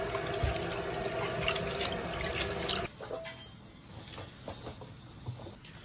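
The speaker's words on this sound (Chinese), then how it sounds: "先把这羊蹄洗一下" Lamb trotters are washed under a running kitchen tap, with loud, close water noise for about three seconds before the flow stops and only faint handling sounds remain.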